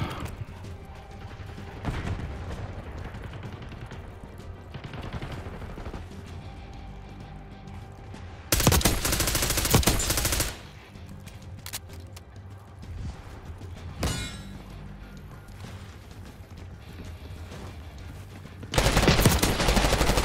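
Loud automatic gunfire in Call of Duty Black Ops 6 free-for-all erupts in two sharp bursts over a low background of game sounds, with quieter distant shots in between.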